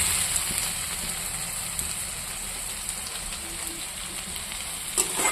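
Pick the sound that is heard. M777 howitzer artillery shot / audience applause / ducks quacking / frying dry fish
frying dry fish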